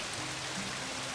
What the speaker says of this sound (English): listening to this water dribbling down the side